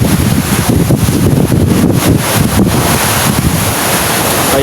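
Waves and strong wind out at sea during a typhoon: loud, continuous rushing surf with heavy gusts buffeting the microphone and rough, uneven surges.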